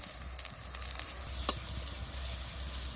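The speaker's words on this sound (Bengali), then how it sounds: "তো এখন আমি ছাতুগুলো ভেজে নিচ্ছি।" Wild mushrooms frying slowly over low heat, a faint steady sizzle with soft crackles and one sharp tap midway.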